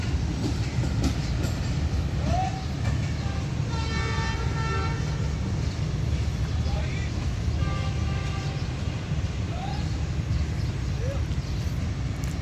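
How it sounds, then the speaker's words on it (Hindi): Tezgam Express pulling out of Lahore railway station toward Rawalpindi, a continuous loud rumble and clatter of wagons with a few short horn toots, and a voice talking faintly underneath. "ये थी तेज़गाम एक्सप्रेस जो लाहौर से रावलपिंडी की तरफ रवाना हो रही थी"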